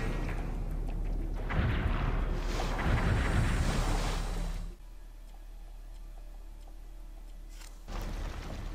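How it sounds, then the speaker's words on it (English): Underwater explosion in the game Metroid: Other M: a loud, muffled, rumbling burst that swells for several seconds, then cuts to a quieter, hollow underwater ambience before rising again. "That noise, man, that underwater explosion."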